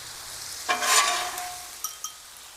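Chicken, zucchini and corn being mixed with a spatula on a Blackstone griddle, a close sizzle that swells as the food is turned, followed by a couple of sharp scrapes.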